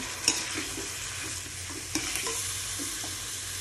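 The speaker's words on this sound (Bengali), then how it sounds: "ডালটা আমার সুন্দর করে ভাজা হয়ে গেছে।" Mung dal toasts in a pan with a soft, steady sizzle and a couple of light spoon scrapes, fairly quiet and close, with no voices.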